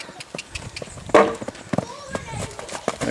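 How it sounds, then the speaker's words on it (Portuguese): A black purebred Lusitano mare moving, with uneven hoof clops and shuffling steps close by, a sharper thud near the middle, and a person speaking over the movement. "Jacobina VR é uma égua preta, matriz"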